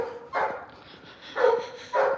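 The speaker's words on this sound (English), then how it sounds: "Noisy doggy number 2." A dog in a Russian village barks three times in short, evenly spaced woofs, moderately loud and somewhat distant, with no talk over it.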